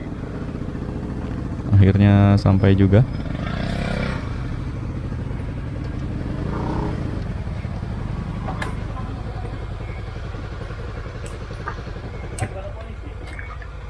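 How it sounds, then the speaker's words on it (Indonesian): A small Honda Beat scooter climbs a fairly steep road, its engine a steady drone under the riding noise, with a brief loud rising tone early on and a short spoken remark. "Tapi untuk motor-motor kecil Honda Beat ini oke lah."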